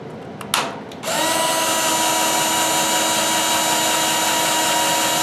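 A power drill bores into stainless steel while a HERMS brewing system for an electric brewery is being built: a couple of short bursts, then a loud, steady high whine that runs on without pause.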